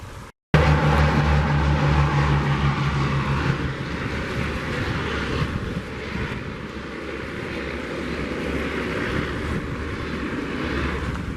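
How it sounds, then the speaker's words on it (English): A steady airplane engine drone overhead, loud and continuous, slowly shifting in pitch with no voices. "Looks like the other plane's making its round."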